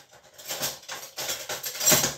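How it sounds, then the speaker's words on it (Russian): A large spoon clinks and scrapes against dishes in a home kitchen while a cake is being made; a few irregular metallic taps and clatters, fairly faint, with no talking. "Так, беру ложку большую."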